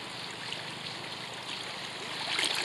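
Riffle water in a stream flows in a soft, continuous rush and trickle nearby during fly fishing, with no voices.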